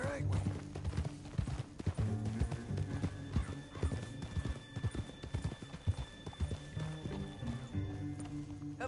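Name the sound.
horses galloping in Red Dead Redemption 2 video game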